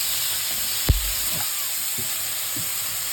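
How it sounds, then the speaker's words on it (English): Onions and dry chilies tempering in a little hot oil give a steady hiss and sizzle, close and even, with a few soft clinks and stirring knocks. "the onions and the chilies need to be tempered with the little oil that we have used"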